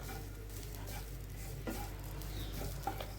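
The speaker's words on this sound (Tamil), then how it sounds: "அந்த தேங்காவை நம்ம ஃப்ரை பண்ணி எடுத்துக்கலாம்" Grated coconut frying in a pan for homemade paruthi paal powder, giving a quiet, steady sizzle with faint stirring scrapes and no talk.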